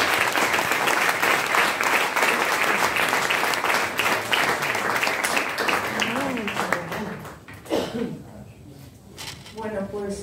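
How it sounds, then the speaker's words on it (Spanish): Audience applause at a Spanish-language medical conference talk on Sjögren's syndrome, steady dense clapping from a room of listeners that fades toward the end as a speaker's voice returns. "pues nada, un aplauso, ¿no?"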